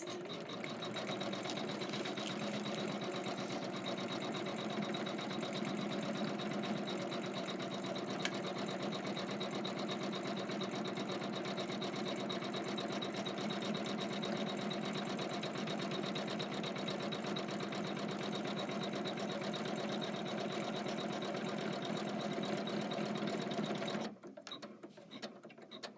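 A Kimberbell embroidery machine stitches leaf details in a steady rapid mechanical whir that runs unbroken for most of the stretch, then stops abruptly near the end, leaving quiet room sound.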